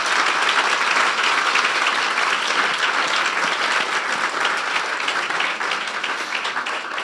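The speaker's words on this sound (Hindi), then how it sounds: "फिर बजा दें यीशु के लिए तालियां" A church congregation claps together in dense, steady applause for Jesus during a sermon, loud and close, slowly easing toward the end with no talking.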